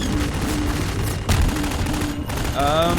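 Rapid bursts of gunfire in the Half-Life 2 video game crackle close and sharp, with a heavier blast in the middle and bright electronic whines and chirps from the game near the end.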